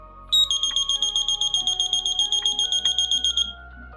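A high electronic buzzer beeps rapidly and steadily, about two dozen short pulses in a row, loud and close, then stops.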